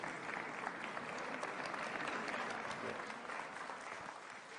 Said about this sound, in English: another hearty, warm clap for Sir Mo Ibrahim and His Excellency, the President, Dr. William Samoei Ruto